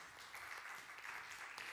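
Brief applause from a church congregation welcoming new members during a Sunday service, a short burst of clapping heard faintly and fairly distantly, continuous across the moment.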